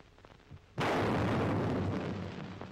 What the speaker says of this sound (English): As soon as the gun is fired